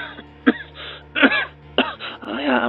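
A woman with a cold coughs and clears her throat, with short rough bursts between stretches of quiet, near and moderately loud.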